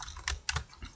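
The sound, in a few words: typing on a computer keyboard into a spreadsheet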